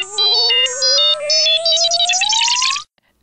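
R2-D2 droid from Star Wars, a rapid burst of electronic beeps and warbles over a rising whistle-like sweep. It is loud and close, then stops abruptly after about three seconds.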